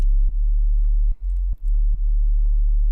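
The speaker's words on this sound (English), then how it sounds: "I'm just going to play the sub real quick, just so you hear what's going on." A synthesized sub bass tone plays alone as a loud, steady low drone, briefly chopped by several short dips and clicks as it pulses.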